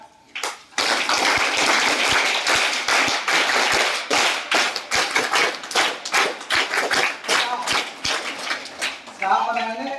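A classroom of students claps together on cue, a loud burst of rapid, slightly uneven hand claps that runs for several seconds and then stops, with a brief voice at the start and at the end.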